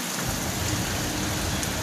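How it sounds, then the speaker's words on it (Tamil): Rain spray lashing a road during a heavy downpour in Erode, a loud, unbroken wash of hissing drops with a low rumbling undertone, no voices. "சாரல் சாலையை அடிக்குது."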